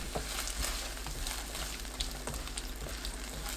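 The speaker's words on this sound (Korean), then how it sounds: "중불로 켜고 1분 볶습니다." Garlic scapes stir-fry over medium heat in a pan of sauce made from tuna sauce, soy sauce, water and corn syrup, giving a faint, steady sizzle with soft bubbling.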